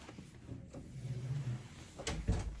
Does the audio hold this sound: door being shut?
yes